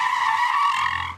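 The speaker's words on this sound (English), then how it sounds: "slammed on the brakes" A car braking hard with a sustained, loud, high-pitched tire screech that holds steady for about a second and then fades out abruptly, close and alone with no talk.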